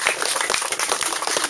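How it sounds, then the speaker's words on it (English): Dense burst of audience applause at a junior football club presentation day, many hands clapping close and loud throughout the short clip. "Have yourself a round of applause."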